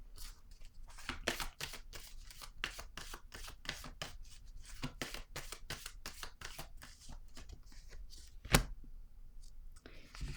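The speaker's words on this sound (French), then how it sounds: "Je vais piger une autre carte" Tarot cards shuffled close up in rapid papery riffles and slides, one sharp snap as a card is drawn near the end, with soft whispered talk underneath.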